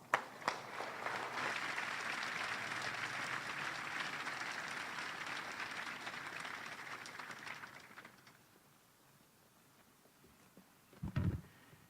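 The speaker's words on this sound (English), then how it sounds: "please join me in a warm round of applause for Lieutenant General retired House" Audience applause at the ceremony renaming Fort Hood to Fort Cavazos, as a retired lieutenant general is introduced: dense, loud clapping for about eight seconds that fades to quiet, followed by a brief thump near the end.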